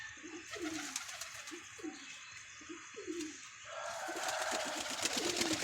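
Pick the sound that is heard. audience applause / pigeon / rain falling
pigeon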